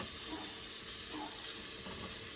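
Chopped celery, green and red peppers and onions dumped into a hot gumbo roux, giving a steady, bright hiss and sizzle that holds evenly throughout with no talk.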